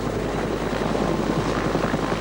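Helicopters working over Lemon Tree Passage, lowering a radio mast on a line, give a steady, loud rotor and engine roar that holds constant throughout without talk.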